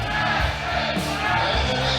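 Crowd at the Virginia Pro USA Powerlifting meet cheering and yelling while a lifter takes the platform, a dense, steady roar of many voices close around with rising whoops.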